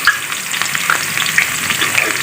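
Garam masala and a little onion hit very hot oil in a pan for a Desi tinda gosht curry, giving a loud, dense, continuous sizzle with a few small spoon clicks, close up and without any talk.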